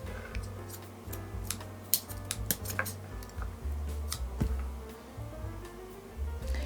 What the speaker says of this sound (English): And now I will cut the cord